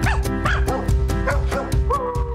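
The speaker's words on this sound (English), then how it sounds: "She's an adorable young bull terrier mix." A young female bull terrier mix dog gives a close, rapid series of yips, whimpers and short barks, repeating roughly every half second, with a steady hum underneath.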